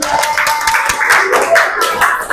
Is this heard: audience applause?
yes